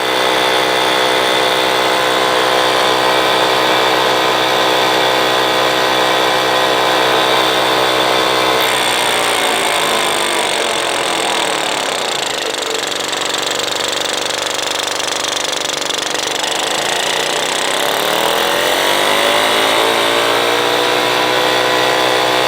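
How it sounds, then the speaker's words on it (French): A Solex 5000 moped engine runs on a test bench with a loud, continuous buzzing drone, dipping and rising in pitch midway as the throttle shifts, then settling back to a steady roar. "donc moteur Solex 5000 au banc. Et comme vous le savez, on va le faire tourner."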